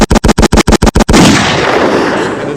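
Seven sharp, loud gunshots fire in quick even succession, followed by a booming echo that slowly fades away.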